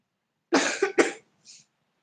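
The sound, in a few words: coughing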